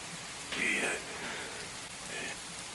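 Steady rain falls in a soft, continuous hiss that swells slightly in places, with no other sounds standing out.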